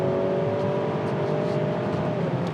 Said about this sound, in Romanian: Mașina a schimbat o treaptă sau a simulat schimbarea unei trepte